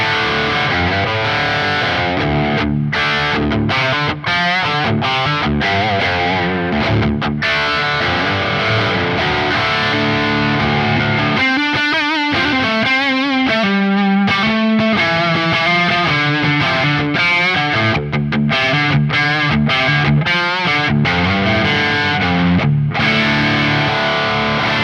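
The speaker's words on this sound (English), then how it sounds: "if we turn up some overdrive" A Gibson electric guitar plays through overdrive, loud and crunchy, with sustained distorted chords and bending note runs that continue without a break and with no talking.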